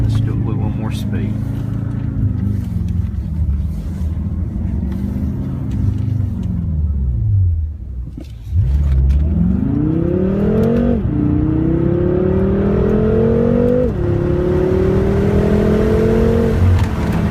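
A BMW M5 on a driving course accelerates hard with its engine revving up in repeated rising sweeps through the gears, briefly dipping midway before roaring back loud and close, steady and continuous throughout.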